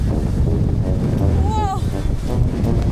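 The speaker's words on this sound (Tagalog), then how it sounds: "Literal mahangin sa labas." Strong typhoon wind on Boracay buffets the microphone in a continuous roar, with a voice briefly rising through it.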